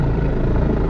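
A helicopter flying in to land near a private house produces a loud, steady, close rotor roar that fills the whole moment without a break.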